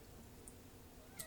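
A domestic cat meows faintly in a quiet room, two soft, brief calls spaced about a second apart with no talking.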